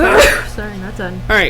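A loud, close sneeze in a school board meeting room, followed at once by a person speaking.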